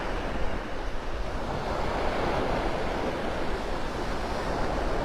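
Ocean surf breaking steadily on a beach at Delnor-Wiggins in North Naples, Florida, a continuous close wash of waves with some wind noise across the microphone and no talking.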